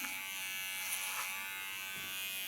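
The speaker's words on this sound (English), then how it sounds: "My clipper has to work on it." An electric hair clipper works through a woman's thick hair during a very short haircut, making a steady, close, high buzzing hum that holds level throughout with no talk.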